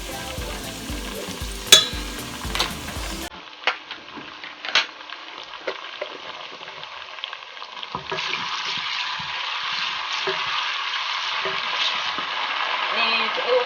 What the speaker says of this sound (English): now I'm just going to be adding the garlic and ginger paste in here